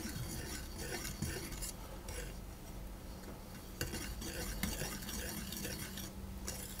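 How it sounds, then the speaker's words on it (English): Salt, mixed spice and cinnamon stirred with sugar in a bowl for scones, a continuous scraping and clinking of utensil against the bowl, close and busy with no talk. "salt, mixed spice and cinnamon, and I'm going to mix those around."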